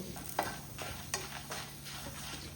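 Curry leaves and black pepper dry-roasting in a pan for a rasam, a faint steady crackle broken by a few light stirring scrapes, with no talk.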